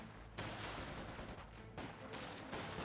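Dense, continuous gunfire from Company of Heroes 2 infantry combat, steady rapid crackling bursts of rifles and machine guns filling the whole stretch at a loud, even level with no clear pauses.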